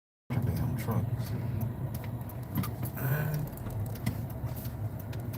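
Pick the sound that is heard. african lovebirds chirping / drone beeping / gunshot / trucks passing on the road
trucks passing on the road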